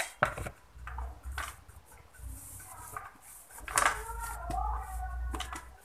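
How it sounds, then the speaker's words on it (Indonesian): A knife cuts soft homemade pizza dough into small pieces for mini pizzas, making a few dull knocks on a board spread through moderate background noise, with no clear talk. "Kita potong-potong lagi."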